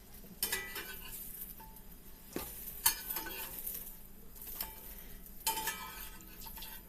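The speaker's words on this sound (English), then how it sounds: "I want to cook those mushrooms on a medium heat." Mushrooms fry in a pan on medium heat with a quiet, constant sizzle, broken by scraping stirs and light utensil clinks against the pan. No one speaks.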